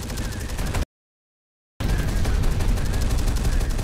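Continuous heavy gunfire and shelling in the video game Terminator: Dark Fate - Defiance, a dense sustained barrage broken by a sudden dead-silent gap before resuming.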